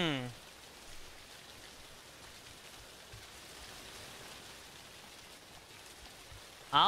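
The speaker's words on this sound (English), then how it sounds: "Rain ASMR." Steady rain in the horror game Chilla's Art The Caregiver, an even wash of patter that holds at a soft, constant level throughout, with a brief louder noise at the very end.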